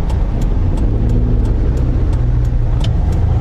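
A truck rumbles along a road near Sariaya, Quezon, its engine a steady close drone with faint repeated ticking over the top.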